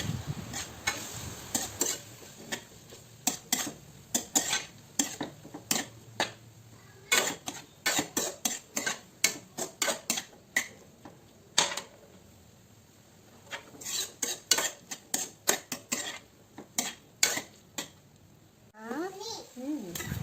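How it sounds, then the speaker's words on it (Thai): Tomato sauce is stir-fried in a pan for spaghetti: a spatula scrapes in rhythmic strokes over a soft, steady sizzle, and a voice briefly comes in near the end. "ด้วยมะเขือเทศนะคะ ผัด ผัด ไปเรื่อย"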